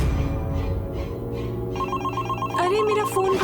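A mobile phone rings with a repeating electronic ringtone melody, fairly loud and close, over background music with no talk.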